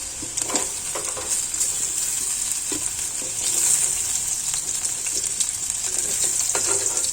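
Slices of raw plantain sizzling steadily in hot oil, partly fried, a continuous close crackle and hiss with occasional louder pops and stirring scrapes, no voices.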